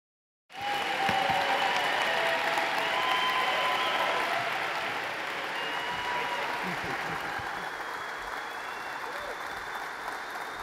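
Sustained applause from a large audience at the Reagan Library in California greets Governor DeSantis as he takes the stage, a dense steady clatter of many hands that starts abruptly and holds at an even level throughout.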